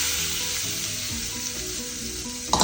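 Tempering of asafoetida, urad dal, chana dal and turmeric sizzles and crackles loudly as it hits groundnut chutney, a steady frying hiss with a sharper burst near the end.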